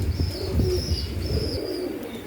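Royal Teddy pigeons cooing in a loft, soft low repeated coos close by, with faint higher chirps from other birds.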